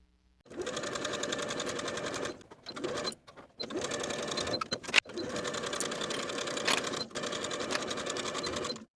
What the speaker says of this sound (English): Sew both seams with a 1/2 inch seam allowance and press the seams open.